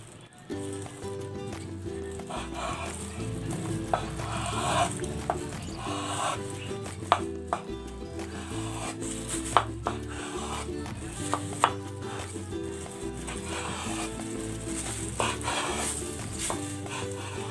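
A knife slices through a rolled egg omelette on a board, giving a few sharp, separated chopping taps over a steady background of music-like tones.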